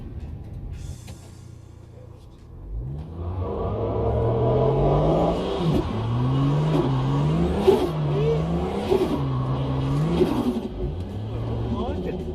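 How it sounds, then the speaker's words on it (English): A Ford XR6 Turbo engine revving during a burnout with the brake held, starting quiet then rising into a loud rumbling engine note with repeated rhythmic surges of revs, close by, with a voice talking over it. "left foot on the brake, It's about quarter throttle."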